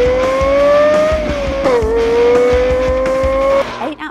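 A film car chase scene with tires squealing in a long, loud, high-pitched screech that bends in pitch over a roaring engine, then cuts off abruptly near the end.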